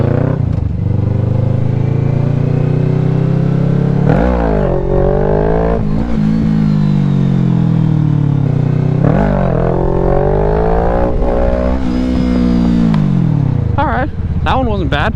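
A motorcycle engine revs hard and close through repeated wheelies, rising and falling in long surging pitches with brief drops between pulls, loud throughout, with a voice talking over it.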